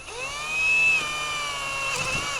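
A power driver whines at high pitch as screws are driven through pre-drilled holes in a deck railing picket, one sustained run with a brief dip and restart near the end, close and fairly quiet.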